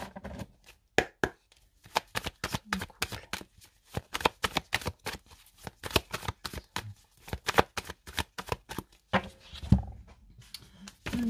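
A deck of tarot cards is shuffled and cut by hand, giving a long run of sharp, rapid card slaps and riffles, close and fairly clear, with brief gaps and no voices.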